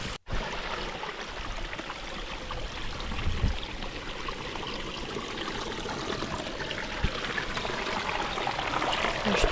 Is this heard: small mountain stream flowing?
yes